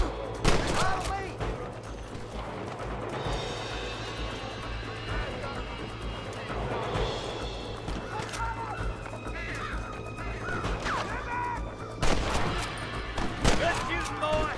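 Gunfire in the Western video game Red Dead Redemption: sharp gunshot cracks near the start and again near the end, with the game's outdoor ambience and effects filling the stretch between.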